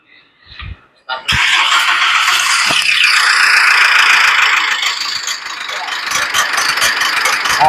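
A Mitsubishi Pajero with a 4D56U diesel engine, freshly fitted with a replacement fuel pump, starts and settles into a loud, steady idle with a metallic rattling clatter, after a few brief knocks beforehand.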